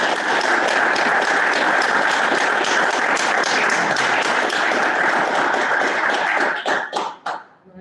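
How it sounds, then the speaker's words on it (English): An audience applauds after a book launch Q&A with dense, steady clapping at close range. It holds strong for several seconds, then thins out into a few scattered claps and fades. "maybe a big round of applause is due"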